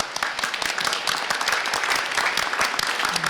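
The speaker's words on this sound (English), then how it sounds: "And if everybody can give McAvery Burgess a round of applause" In a town meeting hall, attendees give a short round of applause, a few seconds of brisk, uneven clapping from a modest-sized crowd, close and clear with no talking.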